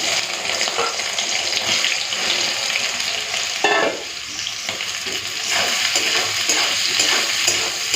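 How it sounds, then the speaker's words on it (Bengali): Soybean chunks fry in hot oil in a wok, giving a loud, steady, dense sizzle throughout with a brief dip partway through and faint stirring scrapes underneath. "প্রথমে সয়াবিনটা ভেজে নেব তার জন্য দিয়ে দিচ্ছি কড়াই তেল"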